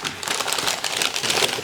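Paper packing crinkling and rustling up close as a pipe parcel is unwrapped, a continuous papery crackle lasting under two seconds with no talking.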